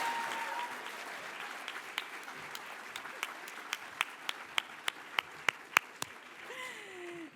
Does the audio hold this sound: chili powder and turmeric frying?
no